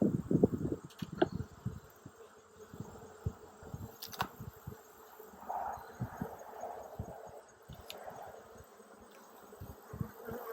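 Honey bees drone at a hive in Tennessee, a steady low buzz with irregular thumps and handling knocks up close, no talking.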